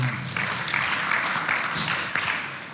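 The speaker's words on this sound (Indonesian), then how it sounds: "Mau tepuk tangan buat Yesus kita." A church congregation claps for Jesus during a sermon, a dense, sustained round of applause filling the room with no voices over it.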